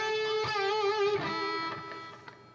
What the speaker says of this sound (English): I'm using a lead tone which has a lot of gain and reverb and delay.